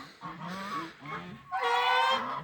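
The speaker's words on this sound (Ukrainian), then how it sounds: "А гусей у мене більше десяти" A flock of more than ten domestic geese in the snow, including young and old ganders, gives several loud, close honks in quick succession, rising into a harsher burst at the end.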